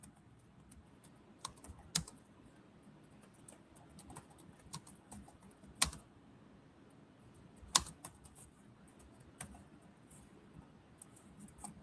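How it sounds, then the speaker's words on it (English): Fingers type on a computer keyboard in a quiet room, a steady patter of soft key clicks with a few sharper, louder keystrokes scattered through, close but faint and without any talking. "I'm typing it in"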